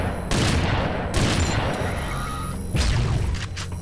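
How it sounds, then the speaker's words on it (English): Shotgun blasts from the Unreal II: The Awakening video game, three loud booming shots with crashing decay, spaced roughly a second apart. "the sound of the shotgun dealing its appropriate blast up close in the face of an enemy"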